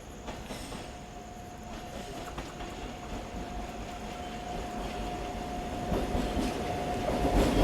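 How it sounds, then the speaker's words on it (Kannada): A night passenger train from Hubballi to KSR Bengaluru, hauled by a WAP-7 locomotive with ICF coaches, pulls into Kadur railway station. Its steady rumble and wheel noise carry a faint squealing tone and swell gradually louder with no voices. "ಎಸ್ ಎಸ್ ಎಸ್ ಹುಬ್ಬಳ್ಳಿಯಿಂದ ಕೆ ಎಸ್ ಆರ್ ಬೆಂಗಳೂರಿಗೆ ಹೋಗುವ ಟ್ರೈನು ಇದರದ್ದು ಇಲ್ಲಿ ಸ್ಟಾಪ್ ಇದೆ"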